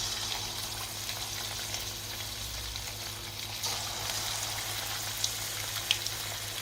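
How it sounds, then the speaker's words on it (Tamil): Black pepper chicken, Dindigul thalappakatti style, frying in hot oil in a kadai gives a steady, close sizzle with a low hum beneath and a couple of brief crackling pops near the end. "இந்த சிக்கனை ஃப்ரை பண்ணுற அளவுக்கு எண்ணெய் நல்லா சூடாகிடுச்சு. இப்போ இந்த சிக்கனை அதில் போடுங்க."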